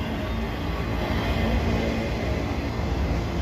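A steady, loud, close roar of freight train cars bound for Virginia rolling by in Abbeville, continuous broadband rumble without pauses or voices.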